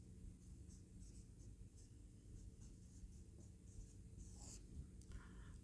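Handwriting during a maths lesson, a faint scratch of strokes and short taps over a steady low room hum, with no talk.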